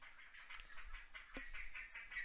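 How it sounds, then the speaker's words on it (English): Ducks quack in a short run of nasal calls, fairly faint and distant, with no talk over them. "Yes, that's my ducks."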